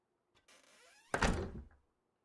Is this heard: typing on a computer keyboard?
no